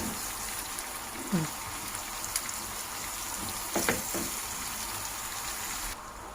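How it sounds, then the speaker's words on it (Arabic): Julienned onions fry in plenty of olive oil in a pan as they are stirred, making a soft, steady hiss broken by a few light utensil clicks and scrapes. "اقلب بقى البصل بتاعي كده. بصل جوليان زي ما قلت لكم"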